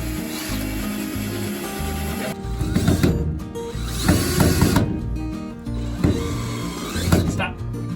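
A power driver sinks a screw while a greenhouse is assembled outdoors: a continuous mechanical whir swells into several louder, ratcheting bursts, heard up close.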